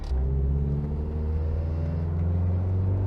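A car pulls away and accelerates in first gear, engine rumble rising in pitch as it revs, close and steady for a few seconds with no talking.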